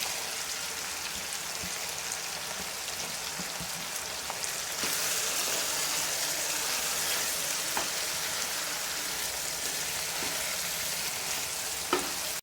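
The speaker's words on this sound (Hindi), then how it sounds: "मुझे शिमला मिर्च को साथ कलेजी के भूनते हुए" Liver (kaleji) with capsicum and tomatoes fries in a pan, giving a steady, close sizzle and crackle that runs without pause, with a few light stirring knocks and no voices.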